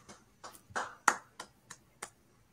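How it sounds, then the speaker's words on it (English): Several sharp, separate hand claps or snaps ring out at an uneven pace in a quiet room during a wrestling livestream, each short and crisp. "May I ask what you're clapping for?"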